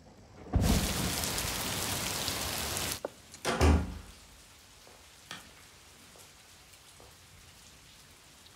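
Steady, heavy rain pours for about two and a half seconds, then cuts off, leaving a faint patter with a few brief thuds and rustles.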